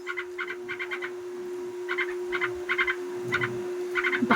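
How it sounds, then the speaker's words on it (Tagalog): Birds call repeatedly in quick chattering bursts, several clustered notes at a time, over a steady low hum. "Maingay yung mga ibon."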